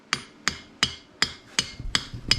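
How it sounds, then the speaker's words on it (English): A hammer taps a tool to seat a part during a 95ci cylinder jug install, seven sharp metallic strikes at a steady rhythm, close and distinct, with no talking. "And then tap it in with a hammer."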